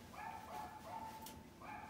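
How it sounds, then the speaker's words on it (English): A dog outside gives a few faint, muffled excited yips and barks in quick succession, distant and heard from indoors, with no talking over them. "there's a dog outside who's very excited that you are getting a tarot reading"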